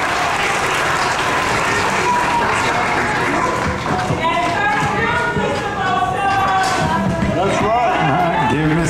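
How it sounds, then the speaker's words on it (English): A school audience claps loudly throughout, a full, busy wash of applause, while children's voices and cheering rise through the crowd noise in the latter half. "Give them a round of applause."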